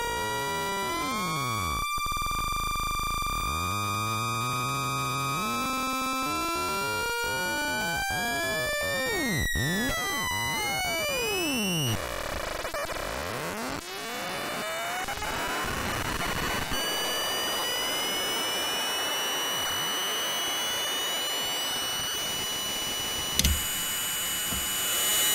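Schlappi Engineering Interstellar Radio synth module producing interacting electronic tones: sweeping, crossing pitches that glide up and down, bursts of noise and clicks, a dense shifting texture throughout with no voices.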